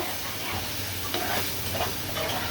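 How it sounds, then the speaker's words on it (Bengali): Onion, garlic and spices fry in oil in a pan, giving a steady close sizzle and hiss with faint stirring scrapes and no voices. "এই মশলাটা দিয়ে আমি আবার কষিয়ে নিব।"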